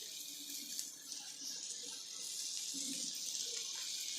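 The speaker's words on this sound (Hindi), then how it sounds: "इसमें पानी डाल देंगे राजमा का," Water pours into a pot of rajma in a home kitchen, a faint, steady hiss and trickle lasting a few seconds, heard alone without talk.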